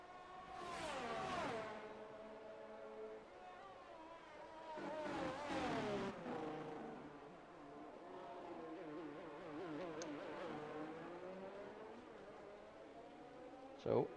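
Formula 1 race cars in F1 22 at Spa, with high-pitched engines whining and sweeping up and down through gear changes as cars pass, and a commentator talking over them.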